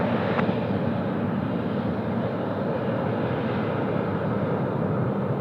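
An airliner rolls for takeoff on runway 34 Left at Sydney Airport, a steady, loud broadband engine roar that holds throughout with no voices.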